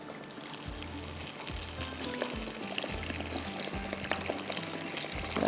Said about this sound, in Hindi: इसको हम डालते हैं यहाँ पर गर्म ऑयल के अंदर।